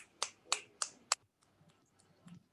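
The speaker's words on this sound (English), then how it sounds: "Do you know to snap your fingers?" Third-grade children snapping their fingers in a music workshop classroom: four crisp, evenly spaced snaps up close, followed by softer, scattered snaps and faint rustling.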